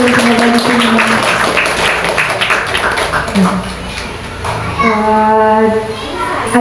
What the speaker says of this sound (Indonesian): Tepuk tangannya sekali lagi untuk bunda-bunda dan teman-teman di sini.